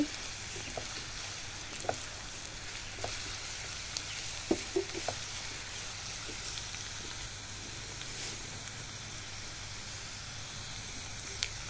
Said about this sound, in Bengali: এই যে পেঁয়াজটাকে আমি কিছুক্ষণ ভেজে নিলাম